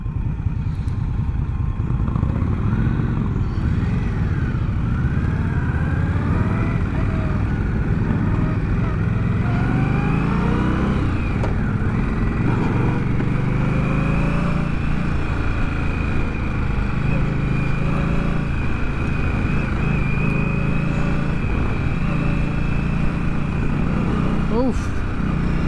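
A 2022 Indian Scout Rogue motorcycle on a road ride gives a continuous engine drone that rises and falls through gear changes, with wind rush throughout and a rider talking over it.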